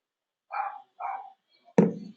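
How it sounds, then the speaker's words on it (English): Griffo the dog makes a racket in the background: two short muffled barks followed by a louder, sharper bark, all fairly distant and alone without talk. "anyone hear my dog? It's Griffo in the background making a hell of a racket"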